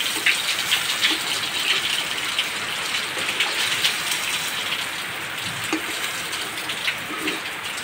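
Heavy monsoon rain from a low-pressure system pours steadily in a village setting, a dense, constant hiss of drops on surfaces with occasional heavier splatters, loud and close, with no voices.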